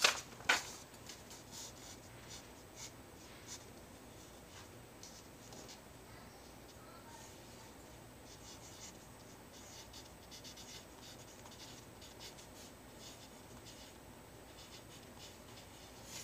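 A pencil drawing on paper, with soft scratchy strokes at close range running on and off throughout, faint and steady, and a couple of louder taps at the start.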